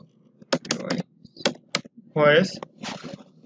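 Keys on a computer keyboard tapped in short bursts as a file name is entered on a desktop computer, with a voice speaking between and over the clicks.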